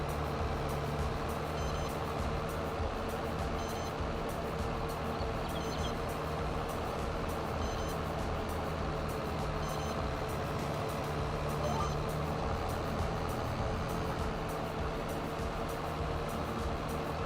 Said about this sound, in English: I know the beeping's annoying